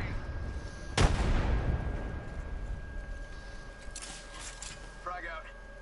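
A grenade explodes in the Apex Legends video game on King's Canyon: one sharp, loud blast with a rumbling decay lasting about a second, followed by quieter gunfire and game noise.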